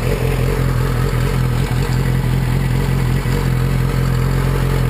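A 2006 Yamaha R6 motorcycle idles steadily after a highside crash, its engine a close, continuous hum with a faint recurring clatter and tick, no revving, and no one talking.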